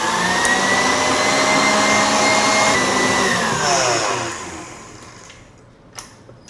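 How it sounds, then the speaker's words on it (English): Electric whisk beating meringue at very high speed: a loud, steady whine for about four seconds that winds down as the motor slows, followed by quiet with a small knock near the end. "we carry on whisking for about 5 more minutes on a very high speed"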